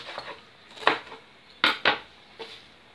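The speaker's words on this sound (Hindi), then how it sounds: "इसी तरह सारी सरसों काट लीजिए।" A knife chopping mustard greens on a board while preparing Punjabi sarson ka saag, heard as a handful of sharp, close cuts and clacks spaced irregularly over a soft background, with no talking.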